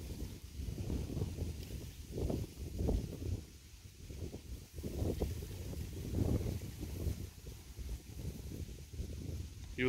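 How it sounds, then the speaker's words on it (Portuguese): Wind gusting outdoors on a fishing trip, a low rumbling buffet against the microphone that swells and fades continuously for about ten seconds. "E o vento ainda para ajudar?"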